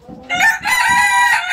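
An Australorp rooster crows loudly and close, a drawn-out call with clucking hens beside it.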